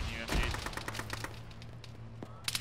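Rapid bursts of gunfire crackle through a ShackTac Arma military mission, a steady run of sharp automatic shots at middle distance with a heavier thump early on and a final flurry near the end.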